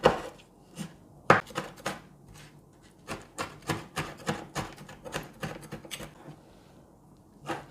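A knife slicing a Scotch bonnet pepper on a board, a series of sharp close cuts and taps in an uneven rhythm, quickening into a rapid cluster, with no talking.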